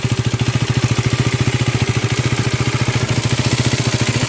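A Husqvarna Vitpilen 401 single-cylinder motorcycle with a Husqvarna-branded silencer idles at a standstill, giving a steady, rapid, even thumping pulse that stays loud and close throughout.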